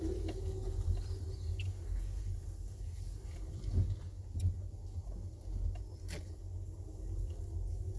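A car driving through a villa neighbourhood at Dredge Bay in Antigua and Barbuda and making a right turn, with a steady low engine and road rumble throughout and a few faint ticks and clicks on top.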